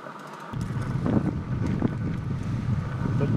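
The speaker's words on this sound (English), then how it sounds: "It is quite windy." Strong wind at El Faro Beach in Rincon, Puerto Rico buffets the microphone, a loud, gusty rumble that begins abruptly after a brief lull and continues unevenly, with water faintly audible.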